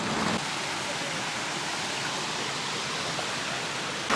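A creek in a Gold Coast hinterland forest flows steadily, a loud continuous broadband rush of water filling the whole clip at an even level, with no talk.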